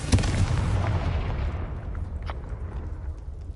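A Confringo explosive spell blast in Hogwarts Legacy, with a loud booming burst up front and a rumbling roar that fades slowly over a few seconds.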